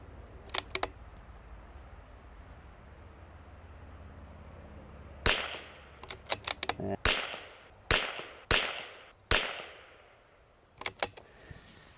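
A Vudoo 360 rimfire rifle fires Eley Match ammunition outdoors, several sharp, isolated cracks with short decays spaced a second or so apart, fairly close, against a quiet background.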